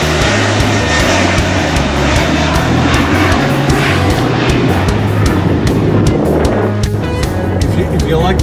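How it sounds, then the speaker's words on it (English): A loud propeller airplane roars close overhead, its engine drone steady and powerful throughout, with people talking underneath. "Airplanes around here, Dead End Beach is a great place to watch them."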